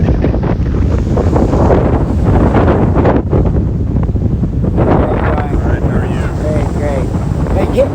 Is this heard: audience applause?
no